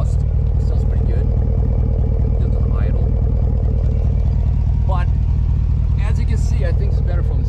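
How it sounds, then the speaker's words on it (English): A Ram pickup truck idles through its stock exhaust, giving a steady, even, pulsing low rumble heard up close, with a voice talking over it. "It's actually a stock exhaust. It sounds pretty good."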